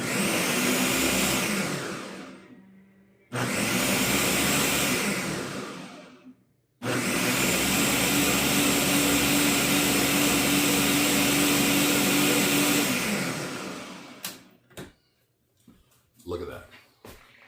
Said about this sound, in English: But let me puree this, and this is going to end up being our sauce.